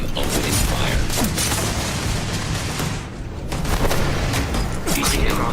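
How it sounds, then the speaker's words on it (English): Dense combat gunfire in the sci-fi video game Starfield, a loud continuous barrage of shots and blasts with a brief lull midway, mixed under game voice lines. "I am opening fire."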